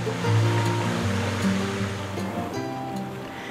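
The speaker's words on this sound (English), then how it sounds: "Enjoy the soothing sounds of the creek and waterfalls" A creek and waterfalls flow beside an Asheville bungalow, a steady, full rush of moving water that is continuous and fairly close, with no voices.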